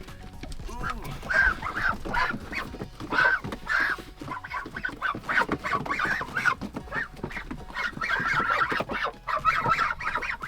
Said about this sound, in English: So yeah, those are baby geese. So the louder guys that you heard